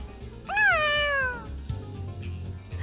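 A single clear cat meow in the video game Tales of Xillia 2, bright and drawn out with a falling pitch, close up over a low steady background hum.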